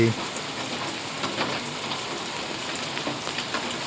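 Heavy evening downpour in Gordka village, Gadhada, Botad, with water pooling in the fields: a dense, steady hiss of rain striking surfaces, continuous and loud throughout, with no clear speech over it.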